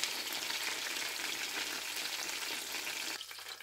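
Fish fries in a pan with a loud, continuous sizzle. The hiss stays steady with no talking and drops off sharply near the end.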